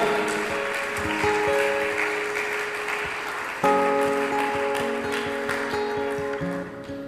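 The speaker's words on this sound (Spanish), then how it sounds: "Denle un fuerte aplauso a Cristo, pero déselo fuerte pues, hermano." A church congregation claps loudly for Christ during a sermon, a steady wash of applause with sustained keyboard or organ tones underneath, swelling again partway through and then easing off.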